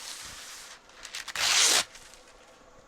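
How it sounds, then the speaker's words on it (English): Parchment paper is pulled from a roll and torn, giving crinkly rustles and then one loud, sustained rip near the middle, close by and without talking. "So I use parchment paper."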